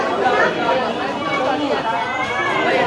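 Busy crowd chatter fills a railway station in Taki on a Sunday market day, a dense, steady murmur of many overlapping voices close around with no pauses.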